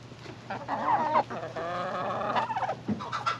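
Chickens cluck and squawk close by in a farmyard flock, with several overlapping calls over a few seconds.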